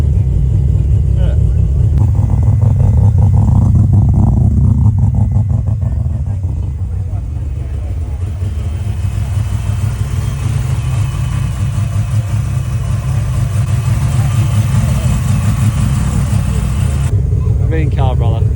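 Rotary-engined car running at a large rotary car show, a loud, continuous buzzy engine drone close by that stays steady throughout, with people talking over it.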